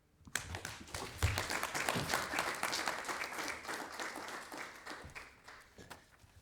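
Audience applause at a Namibia–Bremen sister cities agreement signing ceremony, a sustained wash of many hands clapping that swells quickly and tapers gradually, with a few sharper nearby claps standing out.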